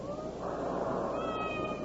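A cat meows in a kitchen, one drawn-out plaintive meow with a rising then sustained tone, fairly faint and muffled as if from another room, over a low steady background hum.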